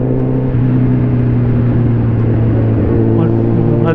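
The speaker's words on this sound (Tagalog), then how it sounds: "May nakasabayan pa nga tayong adventure bike eh, no?" A motorcycle engine hums loud and steady throughout while riding alongside a CF Moto adventure bike, with wind rushing beneath it and a constant drone.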